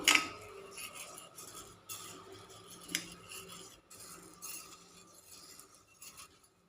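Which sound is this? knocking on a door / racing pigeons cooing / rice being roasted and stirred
rice being roasted and stirred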